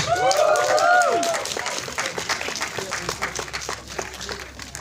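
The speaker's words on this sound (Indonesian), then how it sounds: "Jangan berhenti dong tepuk tangannya" Audience applause at a film press conference, a spread of clapping heard under a rising, whooping voice early on, then continuing as scattered, thinning claps with some crowd noise.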